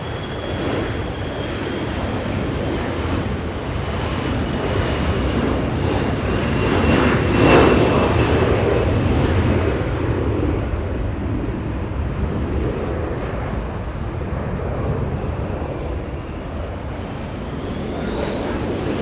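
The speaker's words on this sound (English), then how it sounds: "The one getting a move on, Delta 321 and Airbus A321 flying to Atlanta." A Delta Airbus A321 jet roars through its takeoff run, a loud, sustained engine rumble with a rising whine that peaks midway and then eases slightly as it climbs away.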